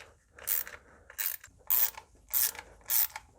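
A ratchet clicks in five regular bursts, close and moderately loud, while bolts are set on the serpentine belt tensioner of a BMW 114i/116i F20, with short quiet gaps between strokes.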